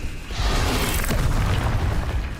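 Expelliarmus spell cast in Hogwarts Legacy: a loud, sustained magical burst with a booming low rumble and bright whooshing hiss that swells in and holds for a couple of seconds.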